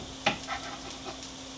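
The white parts of onions fry in a pan with a soft, steady sizzle, marked by one clear stir or scrape near the start and fainter stirring after.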